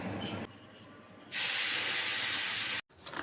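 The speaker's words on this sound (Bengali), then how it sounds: "এবার ওই মাছের তেলে আগে থেকে বেটে রাখা মশলাটা দিয়ে দেবো" Ground spice paste of onion, garlic, cumin and red chillies hits hot oil left from frying fish, bursting into a loud, close, steady sizzling hiss that cuts off abruptly near the end.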